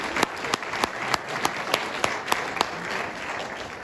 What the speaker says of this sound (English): Folks, let's give them a round of applause.